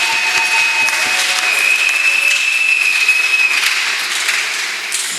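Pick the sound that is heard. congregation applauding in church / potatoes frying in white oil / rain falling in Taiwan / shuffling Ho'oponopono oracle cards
congregation applauding in church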